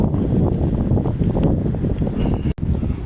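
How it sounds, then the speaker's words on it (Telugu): Strong wind buffeting an outdoor microphone on a morning, a loud continuous low rumble with gusty fluctuations and a brief dropout near the end. "బాగా గాలి ఎక్కువ వేస్తుంది."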